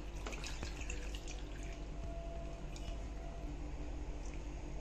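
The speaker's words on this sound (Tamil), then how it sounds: "வேண்டிய அளவு தண்ணி ஊத்திக்கலாம்" Water being poured over washed spinach leaves in a pot until they are fully covered, a steady splashing trickle with a few drips, heard alone and close by.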